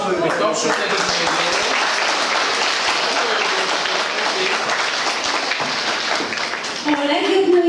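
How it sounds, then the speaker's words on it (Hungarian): Sustained, loud audience applause at a regional children's theatre festival in Hungary, dense and even throughout with faint voices, before a speaker starts talking at the very end. "adjuk meg egy tapsot nekik"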